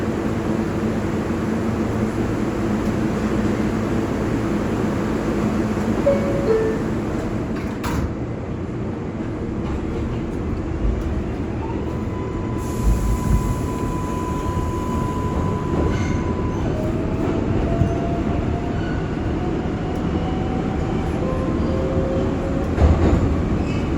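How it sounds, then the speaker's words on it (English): A Bronx-bound 6 local R142A subway train runs loudly and steadily on the IRT line, with constant rumbling, wheel noise and a rising and falling electric whine, no talking. "This is a Bronx-bound 60 local train"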